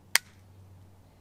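A Kel-Tec P17 pistol loaded with Stinger ammunition gives one sharp, dry light-strike click, a single near snap followed by quiet.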